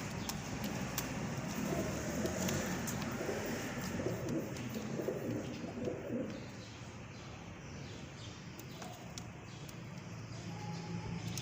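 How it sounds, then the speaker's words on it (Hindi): Male royal teddy pigeons with lace-patterned feathers coo softly and repeatedly against a steady outdoor hum, with occasional faint chirps; no one speaks. "ये मेल कबूतर है माशाल्लाह। इसकी मस्ती आप देखें।"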